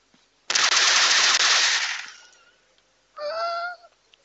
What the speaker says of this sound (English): That's how spiders sound like when they die.